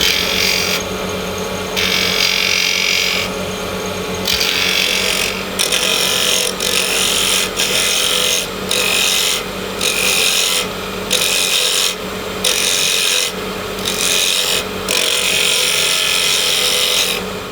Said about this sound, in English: the easiest way to do it is with a pull cut with the bowl gouge